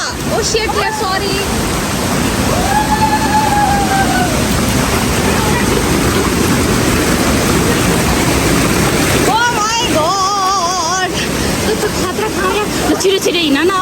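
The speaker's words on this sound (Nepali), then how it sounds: "कहाँबाट पानी झर्रहेछ यहाँ त" Water falling and splashing along a jungle trail in the Shivapuri forest, a steady broadband rush heard close by throughout, with people talking over it.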